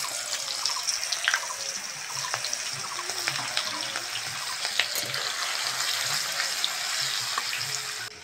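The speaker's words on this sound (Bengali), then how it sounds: "ওই তেলের মধ্যে পেঁয়াজ কুচনো দিয়ে দেবো।" Chopped onions sizzle in hot oil for a fish curry, a steady close hiss and crackle running throughout with small pops and no voices.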